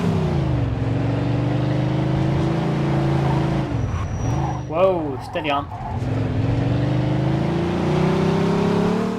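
A car engine drones steadily in the video game Mafia 2 Definitive Edition, its pitch dipping and rising as it slows and speeds up, under someone talking.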